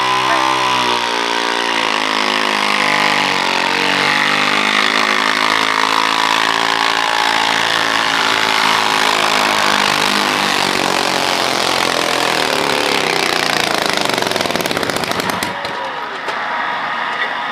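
Loud, sustained roar of a pulling tractor named Inflation at the Jefferson County Fair tractor pull, the engine note climbing and shifting as it strains down the track before cutting off near the end.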